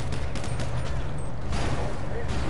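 Dense gunfire in a PS4 online shooter, a sustained burst of rapid shots with low rumble, while players talk over it.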